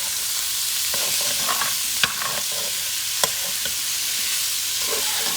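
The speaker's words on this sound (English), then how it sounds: "These are medium peeled, deveined shrimp that I just dropped down in the pan." Medium peeled, deveined shrimp sizzle in olive oil in a hot pan: a steady close frying hiss with a few sharp pops and clicks, no talking.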